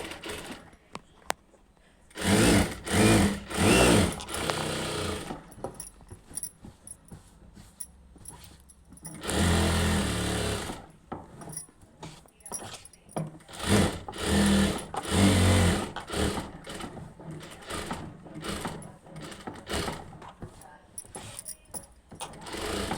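A Jack F5 industrial sewing machine stitches in several loud bursts of fast, whirring run, each lasting a second or a few seconds, separated by quiet pauses while the fabric is repositioned.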